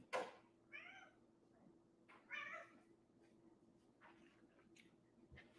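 A cat locked inside a bedroom meows three times, faint and somewhat distant, short plaintive cries separated by quiet pauses.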